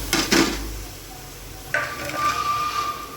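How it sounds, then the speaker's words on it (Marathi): Dal lentils tipped into a hot pan and stirred, giving a few soft clatters and scrapes of the spoon against the pan, then a quieter, steadier rustle with faint sizzling, close by and with no talk. "आता आपण याच्यामध्ये डाळ टाकणार आहोत."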